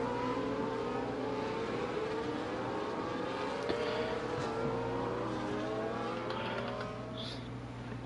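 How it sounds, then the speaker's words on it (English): An Aston Martin safety car's engine drones steadily at speed around the rainy Sao Paulo circuit in a racing video game, a continuous close engine note with gently rising pitch. "With this beautiful Aston Martin safety car right there."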